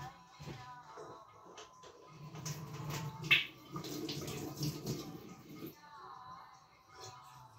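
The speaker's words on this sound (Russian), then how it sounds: "Сейчас я налью воды." Water is poured into a bowl while making oat pancake batter, a faint splashing trickle in the middle of the clip among quiet kitchen handling noises.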